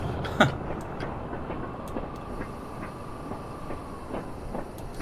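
An oil train rolls past in Train Simulator 2021, a steady low rumble with faint, spaced wheel clicks and a thin sustained tone, fairly quiet and continuous with no talking.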